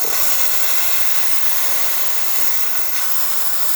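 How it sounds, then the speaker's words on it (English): A Rancilio Silvia V2 espresso machine's steam wand, freshly descaled and serviced, blasts a strong, steady, close hiss of steam throughout, alone with no talk. "we got really, really good steam coming out of it"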